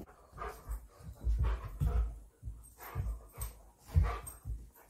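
Dogs fresh from a bath pant and whimper in short, quiet bursts as they dash around nearby, with no talking.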